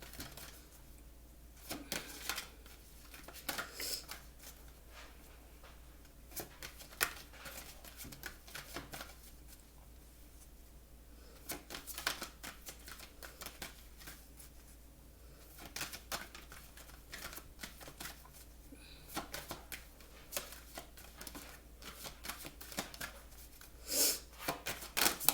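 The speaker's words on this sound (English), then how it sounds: "I'm going to start off with some oracle cards." Oracle cards being shuffled by hand, soft quiet riffling and flicking in irregular bursts, with faint taps between shuffles.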